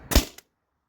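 Single sharp pop of a Tippmann TiPX paintball marker firing on CO2, a brief close crack followed by a short tail, then silence.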